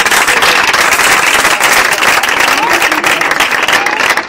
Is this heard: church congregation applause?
yes